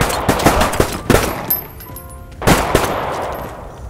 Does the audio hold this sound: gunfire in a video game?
yes